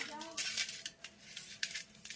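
A spoon stirs a chickpea-greens dish in a metal pan, quick clinks and scrapes against the metal at an uneven rhythm, with a voice speaking quietly underneath.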